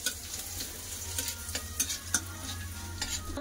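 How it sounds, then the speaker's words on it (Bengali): Oil sizzles softly in a pan as crushed garlic fries while a utensil stirs, scraping in a few sharp taps. "রসুনটা একটু লাল করে ভেজে নেবো।"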